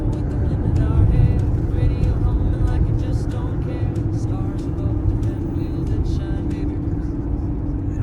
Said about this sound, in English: we're driving through the local town